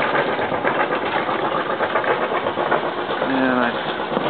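Inboard diesel engine of a Beneteau First 310 sailboat idling steadily below deck on a cold day, a continuous close mechanical hum and clatter with a brief tonal whine near the end.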